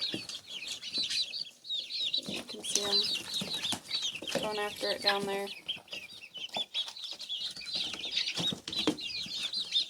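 Barred Rock and Rhode Island Red chickens cluck and chatter nearby with some wing flapping, while a person talks over them.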